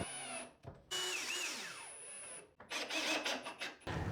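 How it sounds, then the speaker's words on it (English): A power drill whirs in short bursts drilling screw holes for a bypass closet door, revving up and winding down with brief pauses between, close and fairly loud. "I opted to drill one more hole on each end and add 2 more screws"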